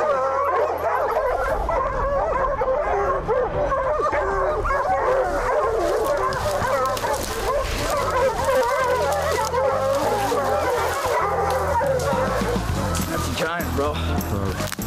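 Pack of hunting dogs baying continuously at a bear during a bear hunt, a dense, loud chorus of overlapping barks and yips throughout, with human voices mixed into the din.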